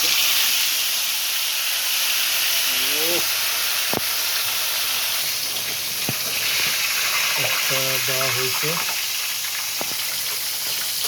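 Two pieces of fish fry in hot oil for a party, giving a steady, loud sizzle and hiss throughout, with a few short knocks and brief voices talking over it.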